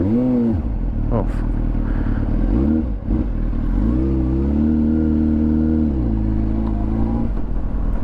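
An old Honda CBR 600RR motorcycle engine under way on the road, loud and close, its pitch rising and falling through gear changes and throttle shifts, with wind rush and occasional talk over it.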